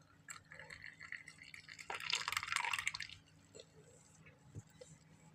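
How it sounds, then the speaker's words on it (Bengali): Milk is poured into a cooking pot for semai, a faint trickle rising to a brief gurgling splash for about a second before easing off, followed by a soft clunk in a quiet kitchen. "তো প্রথমে আমি এখানে দুধ ঢেলে দেব।"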